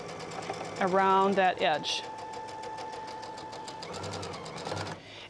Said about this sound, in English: I'm just going to do this top stitching along the edge